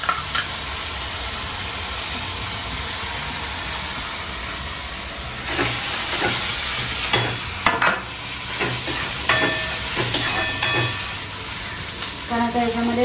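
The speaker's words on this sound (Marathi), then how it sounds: "आलं लसूण पेस्ट टाकते." Ginger-garlic paste fries in a pan for a Malvani bangda fry, a steady close hiss and sizzle running throughout, with scattered clinks and stirring scrapes in the second half.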